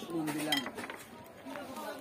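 Ceramic dinner plates from a 32-piece dinner set clink and knock against one another as they are handled, a few close, light ceramic taps sounding over a person speaking.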